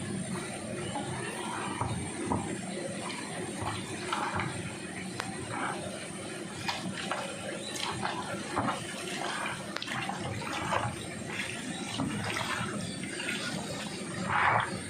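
Water runs and splashes steadily into a pot of mutton curry for several seconds, a continuous gurgling pour with occasional clinks, close by.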